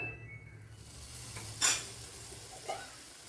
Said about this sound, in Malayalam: ഒരു ചൂടുവെള്ളം ഒഴിച്ച് കൊടുത്താലും മതിയേ മതി. ഇനി ഇതൊന്ന് തിളക്കണം.